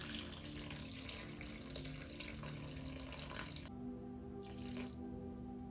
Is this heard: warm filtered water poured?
yes